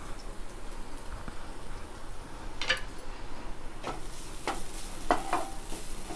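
Grated coconut fries in melted ghee in a pan, a low steady sizzle broken by a few sharp scrapes and clinks of a spoon stirring.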